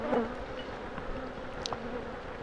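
Close, continuous buzzing of honey bees, a soft humming drone with small flickers as individual insects move near.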